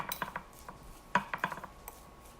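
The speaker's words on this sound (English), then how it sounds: "with your fork, you're just going to go ahead and combine it" A fork clinks and scrapes against a bowl while mixing keto pie dough for an apple pecan pie. It makes a series of light, close taps, with a sharper cluster partway through, and no voices are heard.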